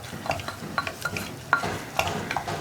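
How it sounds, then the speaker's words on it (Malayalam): Chili and turmeric powder stirred into oil inside a pressure cooker, giving soft repeated scraping strokes at a steady pace with a faint sizzle beneath, close and fairly quiet. "ഇത്രയും ചേർത്ത് നന്നായിട്ട് ഇളക്കി കൊടുത്ത് ആ കുക്കറിലുള്ള എണ്ണയിൽ തന്നെ പൊടികളൊന്ന് കുക്ക് ചെയ്തെടുക്കുക"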